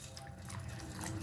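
Water trickles and drips softly as biochar is washed at home with water after acid treatment, a faint, brief splashing and pouring sound.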